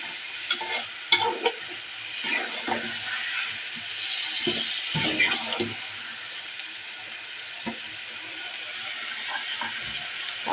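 Marinated beef being stir-fried in a pan, with a continuous soft sizzle and intermittent scraping and stirring knocks from the utensil, fairly quiet and close.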